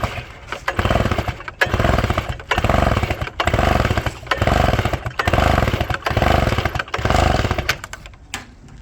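A gas-powered Partner cut-off saw cuts through stone, its engine roaring in repeated surges and briefly dropping between passes, loud and close throughout.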